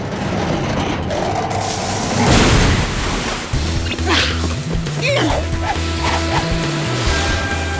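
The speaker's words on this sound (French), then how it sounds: "La canalisation va exploser!" A cartoon water pipe bursts with a loud crashing boom and rushing blast, followed by rhythmic mechanical clanking and hissing, close and prominent with no talk over it.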